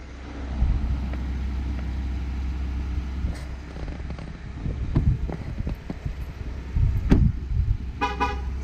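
A 2019 Ford F-150 horn gives a short double honk after the door shuts, heard outdoors over a steady low engine or traffic rumble with a few other clicks and bumps.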